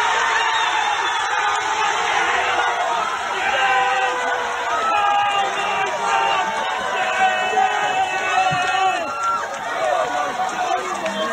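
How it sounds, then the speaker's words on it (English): Club crowd at a tennis club erupting in sustained cheering, whoops and shouts for a tennis win, a dense, continuous roar of many voices. "Just have a listen to the moment the crowd there watched her win."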